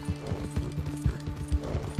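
Horse hooves clip-clopping in Red Dead Redemption 2, a steady run of close, loud hoof strikes over a low background hum, with no talking.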